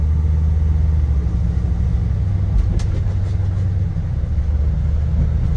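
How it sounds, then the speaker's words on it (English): A 1971 Chevrolet C/K 10 pickup engine rumbles steadily with a deep, low drone, heard close and loud from inside the cab, with no talking. "Truck sounds amazing."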